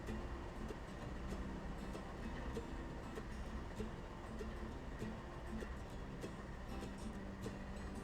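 Model trains circling a big loop in the PC game Train Yard Builder, a steady low rolling rumble with faint clicks running evenly throughout, no voices.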